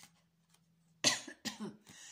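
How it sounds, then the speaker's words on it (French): A sudden sharp cough bursts out after a quiet hum, followed by a second cough and some throat noise, close and loud. "Oui, je tousse."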